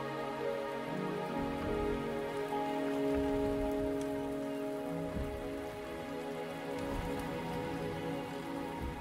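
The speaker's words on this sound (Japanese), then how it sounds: "雨足が弱まってきたね。" Rain falls in the video game Wuthering Waves as a steady patter on surfaces, moderately quiet, with sustained musical tones running underneath.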